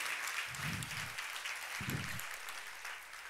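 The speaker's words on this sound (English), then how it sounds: "so give them an applause" An audience at a Women in Tech event applauds, a steady spread of clapping from a crowd, with two short low thumps of handling noise beneath it.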